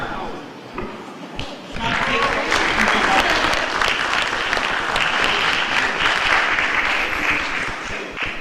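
Audience at a Hall of Fame induction ceremony applauding Dr. Lyons, a loud, sustained wash of clapping that swells after a quieter opening and holds steady, with faint voices beneath.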